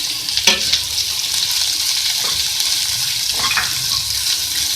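Capsicum and chili flakes hiss and sizzle steadily in a hot pan, with a few brief scraping stirs, fairly close and with no talking.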